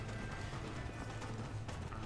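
A horse gallops in the video game Red Dead Redemption, with rapid rhythmic hoofbeats running continuously at low volume over a faint background wash.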